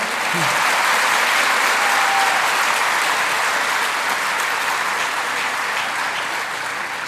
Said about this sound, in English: I think she deserves a much bigger clap than Mr. Shiv Nadar.